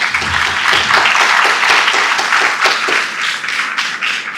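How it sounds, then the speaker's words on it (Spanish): A lecture audience claps steadily and densely to welcome the doctor giving an art talk, applause close and loud throughout without letting up. "Un aplauso, por favor."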